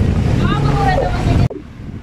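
Strong wind buffets the microphone in a steady roar with people talking under it at Mangili Tindaan Historical Nature Park in Malico, San Nicolas, Pangasinan, then cuts off abruptly to a quieter background.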